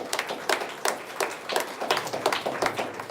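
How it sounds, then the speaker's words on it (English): A round of applause for a school student winning second prize at a sports and cultural club event, heard as steady, fairly close clapping from a modest crowd with no talk. "A big round of applause."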